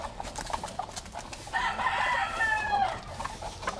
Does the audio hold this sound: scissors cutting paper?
no